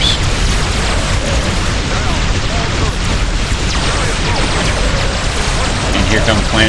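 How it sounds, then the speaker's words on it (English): Mass driver weapons fire pounding ships in the space strategy game Sword of the Stars, a dense, continuous barrage of booming impacts and bursts that stays loud throughout without pause. "we're getting really ripped apart by these mass drivers"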